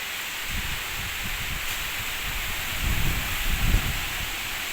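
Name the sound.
strong typhoon wind and rain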